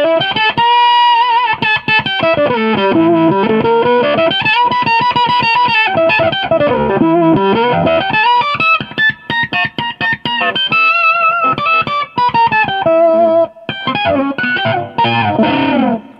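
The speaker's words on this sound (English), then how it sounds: "you start to get less of your fundamental note and more of that upper harmonic, that octave higher" Electric guitar through an octave pedal, heavily processed with a synthetic doubled-octave tone, notes sliding and sustaining in a dense, buzzy, robotic timbre, loud and continuous.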